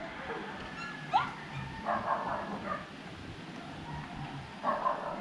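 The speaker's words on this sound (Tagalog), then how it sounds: "Nag-aaway yung mga aso eh." Dogs squabble during a typhoon in the Bicol region, giving short yips, whimpers and snarling barks in scattered bursts at moderate distance over a faint background.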